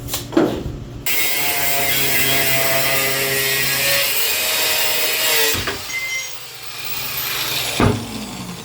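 A saw cuts a piece of metal tubing for chassis strengthening on a Datsun 280Z. A steady, close rasping runs for several seconds, then stops with a few knocks and scrapes as the cut finishes.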